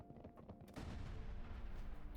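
Explosions in the video game Worms Reloaded: a faint, scattered crackle, then a sudden blast that rolls into a dense, rumbling boom, heard alone.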